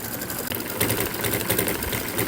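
An embroidery machine stitches background quilting on a needle book in the hoop, a steady fast mechanical whir and needle chatter running continuously, close and fairly loud, with no talking.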